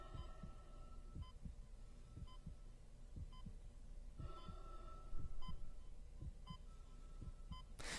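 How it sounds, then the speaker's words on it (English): Isaac Clarke's steady heartbeat thumps throughout a quiet scene in the video game Dead Space, with soft breathing, a low ambient hum and periodic electronic beeps from a suit timer. "all you can hear is Isaac's breathing, his heartbeat, and of course the timer on the back of Isaac Clarke's"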